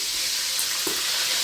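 Soybean oil poured into a hot pot on the stove for pilaf, a steady soft hissing pour, close and continuous with a faint clink.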